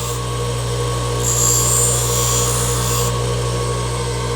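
A bench grinding wheel, worn into a V shape, grinds down the head of a small part, giving a loud, continuous whirring hum with a harsher abrasive rasp rising in the middle.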